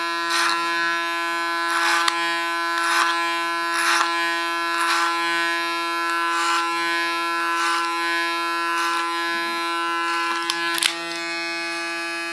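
Electric hair clipper buzzing steadily up close while cutting and shaping a man's hair, used like a comb, with a constant motor hum and rhythmic brushing passes roughly every second; no talking.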